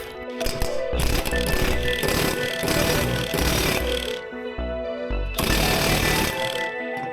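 An impact-type power tool hammers hard on a seized pulley bolt while spindles are being replaced on a Husqvarna RZ4623 zero-turn mower. Loud, close, rapid rattling bursts run almost continuously, with a brief pause before another sustained burst.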